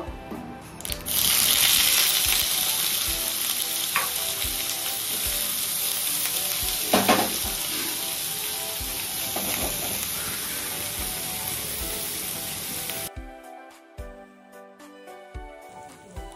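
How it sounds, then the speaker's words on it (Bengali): Small cubes of paneer frying in a little oil in a pan, a loud steady sizzle and hiss with occasional stirring scrapes, dropping abruptly to quiet near the end. "এখন পনিরটাকে হালকা লাল লাল করে ভেজে নেব।"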